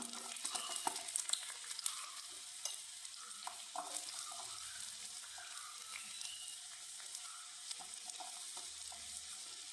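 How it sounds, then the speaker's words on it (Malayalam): Onion sizzles in hot oil for a radish thoran with a continuous soft, bright crackle and occasional faint stirring clicks, heard quietly and alone without speech. "എണ്ണ ചൂടായി വരുന്നുണ്ട് നമുക്ക് സവാള ഇട്ട് കൊടുക്കാം"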